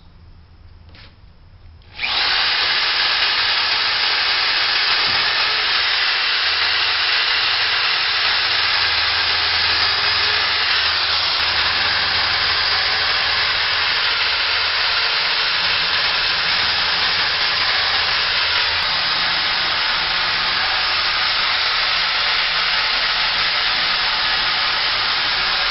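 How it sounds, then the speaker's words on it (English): A power drill boring pilot holes in wood for basement shelving starts after a couple of quiet seconds and then runs loud, close and continuous as a steady high whine and hiss for over twenty seconds, with no talking. "go ahead and take the drill"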